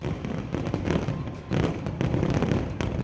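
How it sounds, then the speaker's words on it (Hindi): Fireworks at a Vijayadashami celebration at the RSS headquarters, a rapid string of bangs and crackling bursts, loud and dense, with voices faintly mixed in. "इतनी जोरदार आतिशबाजी शुरू हुई कि ऐसा लगा जैसे दिवाली मनाई जा रही हो।"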